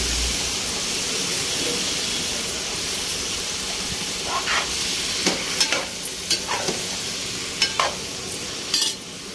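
Eggplant pieces fry in hot oil in a pan, a loud steady sizzling hiss with occasional sharp spoon scrapes and stirring clinks near the end.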